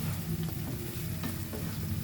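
Fried bombil fish cooks in recheado masala in a pan, a dense, steady close-up sizzle with faint stirring scrapes and no voices.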